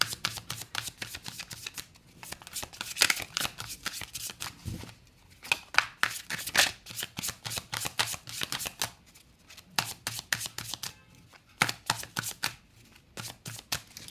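Tarot cards are shuffled in a fast riffling, flicking run that comes in repeated bursts with short pauses, close and crisp throughout, with no talking over it.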